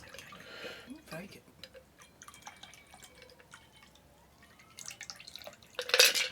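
Reverend Hubert Garden Gin Liqueur poured over chilled ice into a glass, heard as faint drips, trickles and clinks that build to a louder splash and ice rattle near the end.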